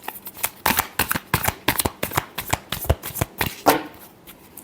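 A deck of tarot cards being shuffled close up, with a quick run of about twenty crisp riffling slaps in a steady rhythm and no talking.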